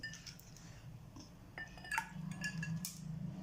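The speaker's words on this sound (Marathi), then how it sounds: "बर्फाचे क्यूब टाकून घेते" A few ice cubes drop into a glass of sattu drink and give brief, close clinks clustered near the middle. A soft background hum runs beneath, with no talk.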